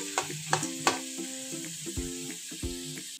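Potato French fries fry in oil over low heat, giving a soft, steady sizzle with occasional light knocks, partly covered by a tuneful melody playing throughout.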